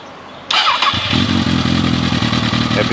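A 2009 Suzuki Bandit 650 motorcycle with a Yoshimura exhaust starts after a brief hiss and settles into a loud, close, throaty rumble that rises slightly in rev, with no talking.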